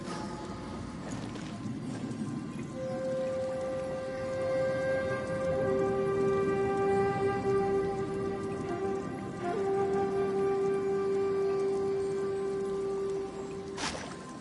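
Steady rain falls in a video game, a continuous patter on surfaces lasting throughout, with sustained tonal music notes layered over the wash.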